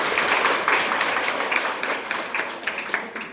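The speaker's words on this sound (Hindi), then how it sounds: "अपने लिए एक जोरदार ताली बजाई जाए।" An audience at a women's empowerment event gives a hearty round of applause, a dense, continuous wash of many hands clapping at moderate distance, steady throughout and slightly thinning toward the end.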